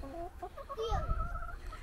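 Chickens cluck and chatter close by in a short burst of overlapping calls, with some low rustling noise underneath.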